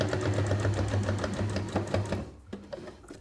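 Sewing machine running steadily while top stitching the edge of a fabric makeup remover pad, a fast even motor rattle for about two seconds that then stops, leaving a few faint clicks.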